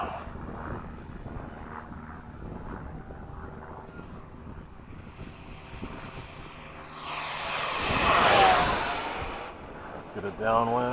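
An FMS 70mm F/A-18 RC jet flies overhead in cloudy skies, a distant faint whine that swells to a loud rushing pass before fading, with someone talking quietly underneath.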